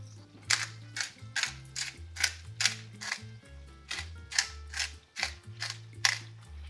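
A hand pepper mill grinds black pepper over tomato basil pasta sauce, giving about a dozen crisp, ratcheting crunch bursts in a steady rhythm, loud and close with no talking.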